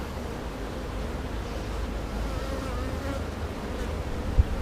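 Honeybees buzz steadily throughout an open hive inspection, a dense close swarm hum with a few nearer individual bees droning past, continuous with no speech.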